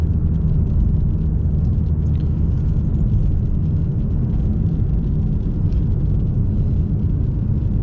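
Ford Mustang with a 3.7-litre V6 making 305 hp, heard from inside while driving on a road test: a steady, loud low rumble of engine and road noise running continuously, with no clear revs or shifts standing out.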